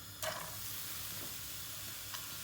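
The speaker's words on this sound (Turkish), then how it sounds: "biz de hemen şöyle az bir sıvı yağ ile soğanlı kavuracağız" Chopped onions frying in a little vegetable oil for a spinach crepe filling, giving a faint, steady sizzle with a brief louder crackle near the start as they hit the pan.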